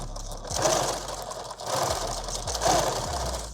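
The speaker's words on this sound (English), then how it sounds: "So right on the top edge, I'm going to sew this." Sewing machine stitching along the top edge of a padded war belt, running in three close bursts of steady mechanical whirring with short pauses between.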